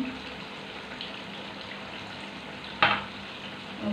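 Curry leaves frying in hot oil for tuna fish head curry, giving a steady soft sizzle with a sharp crackling burst near the end.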